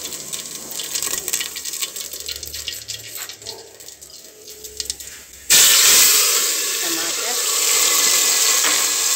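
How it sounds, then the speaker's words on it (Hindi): Cumin seeds drop into hot oil in a home kitchen and burst into a loud, sudden sizzle partway through, settling into a sustained frying hiss after quieter kitchen clatter. "तेल गर्म हो गया है, तो डालूँगी जीरा"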